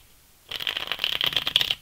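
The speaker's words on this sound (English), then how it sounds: "One more shuffle." Tarot cards shuffled in a quick riffling burst lasting just over a second, close and crisp, with no talking.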